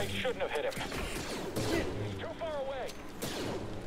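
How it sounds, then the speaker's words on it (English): Bursts of gunfire while shooting at a target in a Jedi-themed video game, clattering under excited shouting and talk. "Shooting at the target!"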